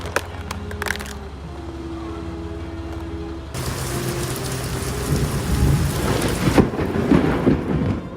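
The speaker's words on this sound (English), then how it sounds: "The storm didn't just bring rain and wind." Thunderstorm over Pittsburgh with rain and wind: a low thunder rumble at first, then a sudden loud wash of heavy rain and gusting wind that builds, with no voices.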